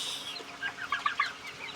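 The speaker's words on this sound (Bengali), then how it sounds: "আর আমার মুরগিগুলো দেখাচ্ছি, আমি কিছু মিশরি মুরগি আছে" Young Egyptian chickens, under a month old, give a few soft, faint clucks and chirps close by in a quick cluster, with no talking.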